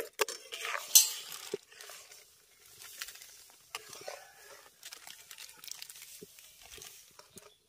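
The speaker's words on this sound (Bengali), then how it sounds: "আর সুজিটা দেওয়ার সঙ্গে সঙ্গে কিন্তু হাতা, খুন্তি বা যে কোনো কিছু দিয়ে এরকম মেশাতে থাকতে হবে এটাকে" A ladle stirs semolina in a pot, with intermittent scraping and clinking of metal against the pot, fairly quiet and close, and no talking.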